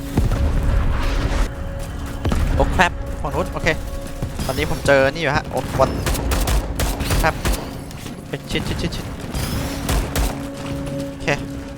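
Loud Starship Troopers: Extermination combat with rapid gunfire bursts and a booming grenade blast, while a voice talks over the clamor.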